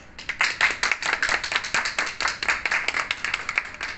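Audience applause welcoming cosmetologist Evgenia Igorevna Dubovik to the stage at a talk on Swiss cosmetics, a steady patter of clapping hands, fairly close and moderately loud, with no voices over it.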